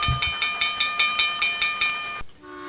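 A train's steam whistle or horn sounds in rapid regular pulses with hissing, about nine blasts, then a sharp clunk and quieter rumble.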